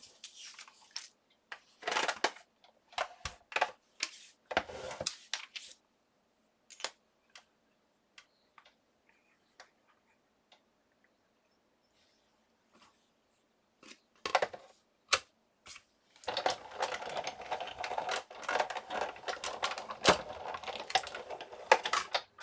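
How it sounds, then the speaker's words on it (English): Die cutting machine pressing paper scraps through a precision base plate setup, heard as scattered crisp ticks and clicks early, a quiet pause, then a dense run of rapid mechanical clicking and rattling near the end, with no voices. "let me die cut this out"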